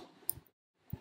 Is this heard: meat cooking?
no